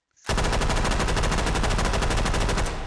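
An M1A1 Thompson submachine gun in the H3VR video game fires one long, loud, unbroken full-auto burst of rapid, evenly spaced shots, starting abruptly and continuing to the end.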